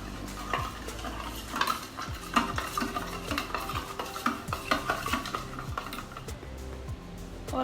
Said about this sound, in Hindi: इसको हम कर लेंगे अच्छे से मिक्स।